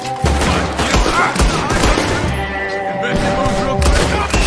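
Gunfire in the Red Dead Redemption 2 game, a dense volley of shots and booms rattling on steadily through the whole stretch, loud and close, with voices mixed into the din.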